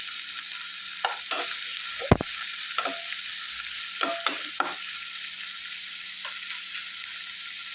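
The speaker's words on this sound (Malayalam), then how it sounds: "ഇനി നന്നായിട്ടൊന്ന് ഇളക്കി യോജിപ്പിക്കുക. ഇതെല്ലാം ഒന്ന് നന്നായിട്ട് മൂത്തൊരു ബ്രൗൺ കളറാകുന്നത് നന്നായിട്ട് വഴന്ന് വരണം." Tapioca and green gram curry masala sautéing in a pan, with a steady soft sizzle beneath scattered scraping strokes of a spoon stirring through it, close up and without voices.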